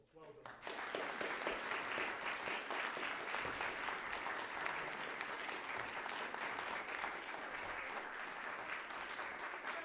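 An audience in a school hall breaks into sustained applause for children, starting abruptly and holding as a steady, crowded clatter of hands.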